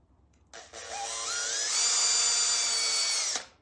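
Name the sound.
power drill drilling small hole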